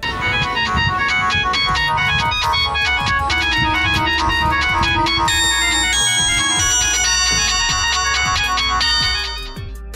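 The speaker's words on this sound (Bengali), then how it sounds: "আমি একটা ছোটখাটো সাউন্ড ডেমো দিচ্ছি, আপনারা শোনেন এন্ড ডিসাইড করেন এটার সাউন্ডটা কেমন" A tinny melodic tune, like a ringtone, plays loud and continuous from the small speaker of a Symphony S100 button phone, with a bright, slightly harsh electronic tone and rhythmic beats throughout, and no talking.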